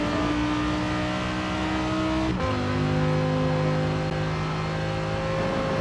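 An Audi R8 V10 Plus accelerates hard on a highway in the Forza racing game, its engine note rising steadily through a gear, dropping briefly at a quick shift, then climbing again loud and close, with no talk.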